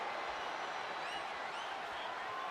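A capacity arena crowd roars on steadily in the WWE 2K25 wrestling game during a no-holds-barred Stone Cold Austin versus Rikishi brawl, a dense, continuous wash of cheering and applause with faint whistles rising above it.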